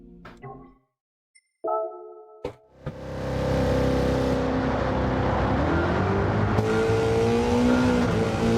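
A race car engine in Gran Turismo 7, played in VR, drones steadily and loudly after a brief start, with a sustained revving tone that rises and shifts pitch as the car accelerates.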